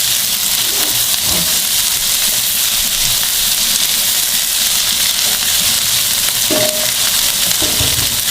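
A chopped large onion sautés in a hot pan, giving a steady, dense sizzle with faint stirring touches throughout and no voices.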